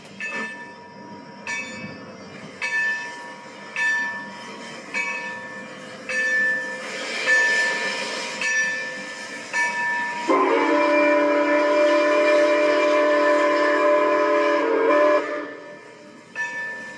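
Milwaukee Road 261, a steam locomotive, gets underway with rhythmic chuffing exhaust beats that build steadily, then a long, loud whistle blast near the end.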